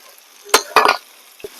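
Short hot-oil tempering bursts in a pan while cooking drumstick leaves with toor dal and curry leaves: two sharp sizzling crackles close together, then a brief small pop, near and moderately loud.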